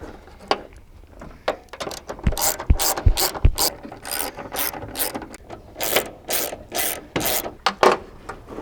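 A ratchet clicks repeatedly as car door bolts on an XH Falcon panel van are tightened, rapid close pawl clicks in bursts alongside metallic rubbing.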